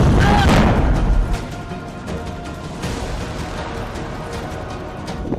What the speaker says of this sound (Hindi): हाईवे पर सिलेंडर ब्लास्ट,